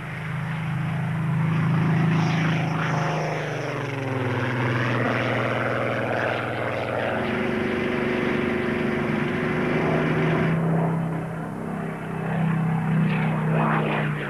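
A Spitfire fighter plane's 12-cylinder inline piston engine drones steadily and loudly, a deep throbbing roar that holds for several seconds with slight shifts in pitch.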